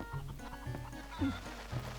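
In The Legend of Zelda: Twilight Princess HD, a brown hen clucks with short, repeated clucks spaced through the moment. They sit over a steady game soundscape with no talking.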